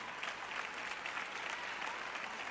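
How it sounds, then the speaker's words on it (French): A church congregation applauds in a sustained, even burst of many hands clapping, fairly faint and without speech. "Maintenant, vous applaudissez quand je dis que Jésus revient"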